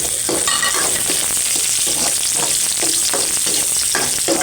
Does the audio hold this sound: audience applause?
no